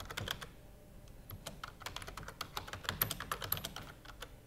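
Rapid, irregular clicks of a computer keyboard as a file name is typed, close and crisp, alone with no talking over them.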